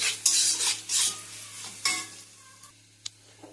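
Boiled taro stirred in a pan of hot oil, heard as repeated scraping strokes of a spoon over a soft sizzle, close and clear, with a few light clinks toward the end.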